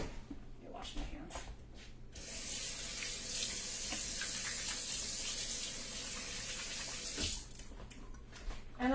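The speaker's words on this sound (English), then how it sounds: "Let me wash my hands." Hands being washed under a running kitchen tap while preparing a bacon and leek quiche, a steady close splashing rush of water that starts partway through, with a voice speaking around it.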